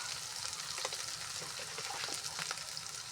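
Ground spices with turmeric and dried chili paste frying in a pan during village-style fish cooking, giving a soft, even sizzle with light stirring scrapes throughout.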